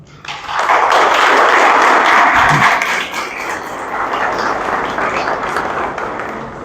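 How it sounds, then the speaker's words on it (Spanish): A large audience at a keynote lecture on citizen security gives a strong round of applause to welcome a speaker, loud and sustained, rising quickly, then easing slightly while continuing. "Con un fuerte aplauso, la recibimos"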